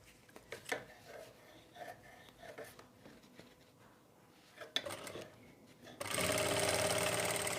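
A sewing machine stitches a belt onto a ready-to-wear saree. Soft handling and fabric rustles come first, then the motor runs in a loud, steady whir close by.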